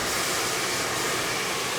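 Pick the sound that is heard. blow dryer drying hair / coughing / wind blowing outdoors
blow dryer drying hair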